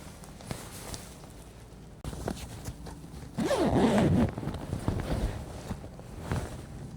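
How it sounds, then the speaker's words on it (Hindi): Closing the waterproof zipper of a motorcycle jacket, a few close rustles of fabric building to one loud, rasping zip pull lasting about a second, with soft handling noise around it. "पहले इसका ज़िपर बंद कर लेते हैं"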